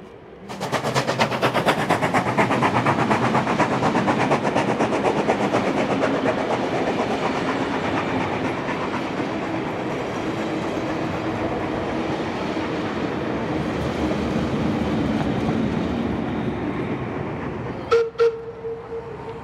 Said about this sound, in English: 3642 charging through to Valley Heights